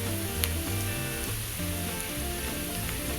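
Onions browning in oil give off a loud, even sizzle with faint stirring underneath, steady and close throughout, with no voices.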